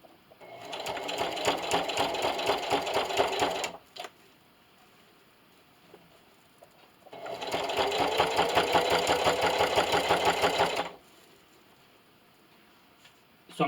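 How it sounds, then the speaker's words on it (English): A sewing machine stitches binding around the curved edge of a canning mitt in two close, steady bursts of a few seconds each, separated by a quiet pause. "So I like to curve my binding around the edge and just sew a little bit at a time."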